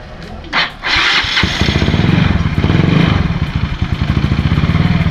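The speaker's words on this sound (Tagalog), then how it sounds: "Tapos sindin mo yung makina niya." A Yamaha Mio Sporty motorcycle engine cranks and catches, then settles into a loud, rapid, chugging idle close by.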